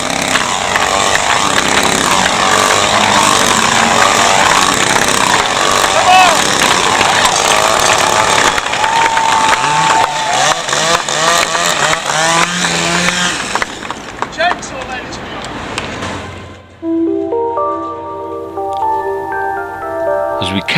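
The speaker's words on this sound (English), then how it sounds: "there were strange performing street acts too, like this chainsaw throwing juggler" A street performer's chainsaw runs while he juggles chainsaws on an Auckland waterfront, its buzzing engine mixed with a talking crowd, before the scene gives way to plucked, melodic tones near the end.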